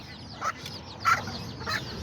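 An Aztequita hen clucks three times at an even pace, close and clear over low farmyard background noise.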